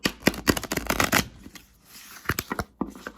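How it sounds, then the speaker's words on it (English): Tarot cards are shuffled by hand in a quick series of crisp riffling bursts, then slower, scattered shuffles and soft clumps of cards, close to the mic with no talking. "10 minutes and I'm still shuffling."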